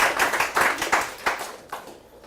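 Several people clapping briefly after a cocktail toast on a Carnival cruise vacation night, a short burst of claps that fades within about two seconds.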